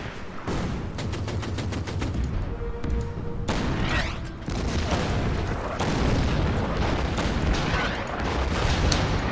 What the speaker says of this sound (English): Gotta love artillery.